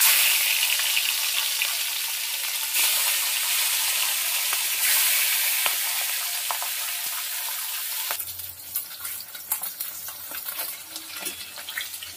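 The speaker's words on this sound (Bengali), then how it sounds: "একইভাবে পরের মাছগুলো ভেজে নেব" Fish frying in mustard oil in a karahi, a bright steady hiss that fades and thins into quieter crackling and spits toward the end.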